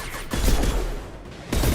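Heavy-recoil gun firing in a video game, a few loud booming shots spaced unevenly over a short stretch with a dense rumbling tail, no voices.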